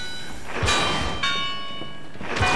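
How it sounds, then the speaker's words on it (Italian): A few bell strikes in the PS2 game Harry Potter and the Order of the Phoenix ring out one after another, each with a bright, lingering metallic tone over a steady background hum. "qua ci sono delle campane"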